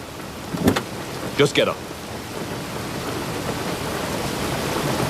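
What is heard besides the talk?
rain and thunder outside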